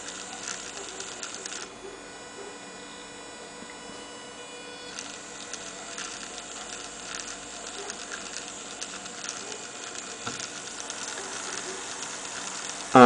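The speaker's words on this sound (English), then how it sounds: "Well, at least this motor runs" A small electric motor driven by an Arduino Mega2560 turns a set of gears, giving a steady close-up mechanical whir with a fine ratcheting texture that carries on throughout.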